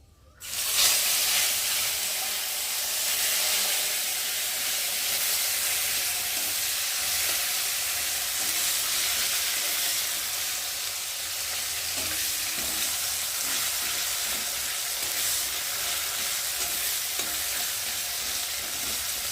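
Tomatoes fry in hot oil with panch phoron in a pan. The loud, continuous sizzle and hiss holds steady and close for the whole stretch, with no voices.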